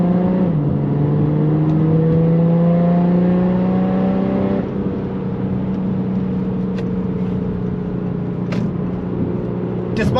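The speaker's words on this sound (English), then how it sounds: "Despite being a diesel, this car definitely feels and sounds like a petrol" Audi A7 Sportback (4G8) diesel with an aftermarket exhaust accelerating hard, its engine note climbing steadily in pitch through the gears before settling into a sustained drone, loud and close throughout.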